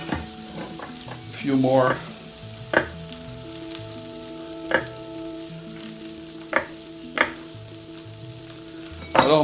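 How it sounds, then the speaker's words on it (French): Potatoes sizzle and fry in a cast iron skillet with steady crackling, broken by several sharp clanks as they are tossed or stirred; one brief voice speaks near the start. "on met les pommes de terre dans la poêle. On va faire sauter comme ça."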